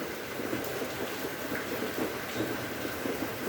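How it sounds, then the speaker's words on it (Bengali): A dense, steady hiss of heavy rain in Mirpur pours continuously with a low rumble underneath, constant and fairly loud with no pauses. "আমাদের মিরপুরে প্রচুর বৃষ্টি হচ্ছে"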